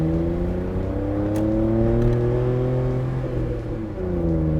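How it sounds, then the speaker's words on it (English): A smart car under hard acceleration gives a steady engine drone whose pitch climbs, dips at a shift and climbs again, loud and close with no talking. "we're going to do a hard acceleration, which is as fast as we can go in the smart car"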